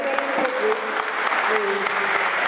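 Audience applause at a Paris conference, a steady dense wash of clapping filling the whole stretch, with a faint voice audible beneath it.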